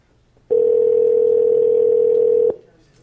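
Telephone dial tone as a caller is brought into a town council meeting by phone: a single steady loud tone lasting about two seconds, starting and stopping abruptly over quiet room noise.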